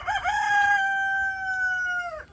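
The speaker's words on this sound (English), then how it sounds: "And he started crowing." American Bresse rooster crowing once, a single loud, close, sustained call that holds steady and then drops off sharply at the end, with no talking.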